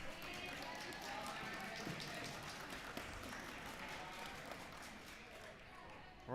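Faint, steady applause from spectators at a women's basketball game as players leave the court, a continuous patter of clapping running under a commentator's talk.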